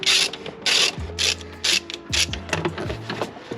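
A ratchet turning a bolt on a car during a cold air intake install, rapid clicking pawl bursts repeating in short runs, close and loud, with no talking.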